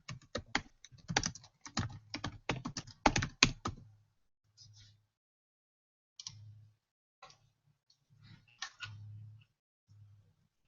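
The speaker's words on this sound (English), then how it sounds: "Let me type in something else that I've used that there was a lot of." Rapid keystrokes on a computer keyboard clatter in a dense burst for about four seconds, then thin out into scattered, isolated taps separated by silence.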